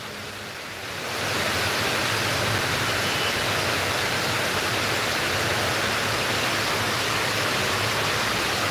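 Heavy rain with floodwater on a road in Sylhet makes a dense, roaring wash of noise that swells in after the first second and holds steady and loud to the end.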